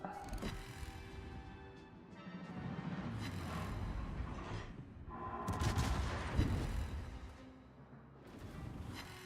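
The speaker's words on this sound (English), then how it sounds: "We'll start firing on the Nagato with secondaries." Secondary guns of a warship fire at the battleship Nagato in a naval video game, a run of rumbling booms and blasts rising to a loud peak midway, with steady background game noise throughout.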